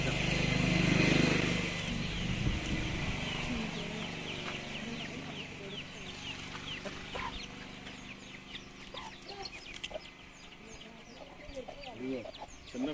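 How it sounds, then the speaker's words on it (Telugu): Chickens, chicks and a rooster cluck and chirp repeatedly at a village sweet-making place in Atreyapuram, with a low engine rumble at the start and people talking nearby. "చిన్న కోళ్ళు పుంజు చూసావా?"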